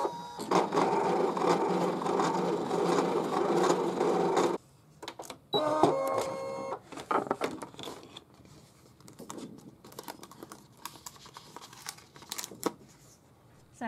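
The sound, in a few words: DesignNCut DC200 cutting machine cutting yellow cardstock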